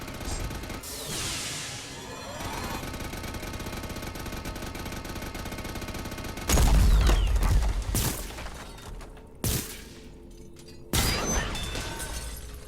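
Gunfire and explosive bursts in the sci-fi shooter Mass Effect 2 during a fight against active defense systems near a Prothean artefact, with a sustained rumble and then several sharp, loud blasts and crashes.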